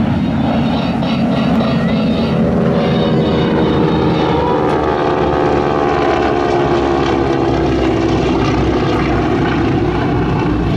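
A propeller airplane roars past fast at the First State Airshow in Dover, Delaware, a loud, sustained, close engine drone with a shifting pitch that fills the whole stretch, with no clear talk.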